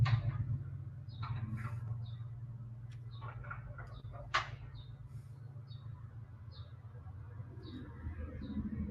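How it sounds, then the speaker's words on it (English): Faint, distant bird chirps repeat sparsely over a low steady hum, with short high calls scattered throughout. "hearing the birds singing"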